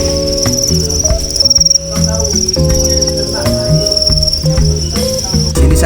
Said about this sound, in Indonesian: jenis jangkrik yang ada di sini yaitu jangkrik madu atau Jamaican cricket dengan nama Latin Grillus mitratus